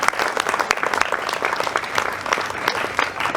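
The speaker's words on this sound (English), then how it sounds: "We can clap again for Chris Graham." An outdoor crowd at a play area opening claps for an honoree, a lively scatter of distinct hand claps at moderate volume, continuous for a few seconds.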